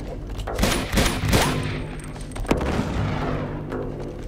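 Rapid bursts of video game gunfire from Uncharted 2, loud and close, with a heavy thump midway and sustained shooting tailing into a lower rumble.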